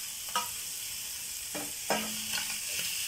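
Chicken fries in a pan with onion, tomato and capsicum while a spoon stirs it. A few scraping strokes break into a steady close sizzle, with no voice heard.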